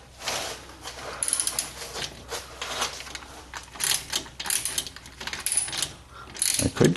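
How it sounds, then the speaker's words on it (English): A hand wrench ratchets on a 2015 Jeep Wrangler exhaust during replacement, giving rapid, close clicking in uneven bursts for several seconds with faint background noise. "You need a wrench to do it."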